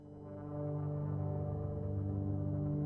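A low, dense synthesizer chord swells in and holds, its tone subtly shifting in stepped, random-sounding wobbles from sample-and-hold modulation throughout.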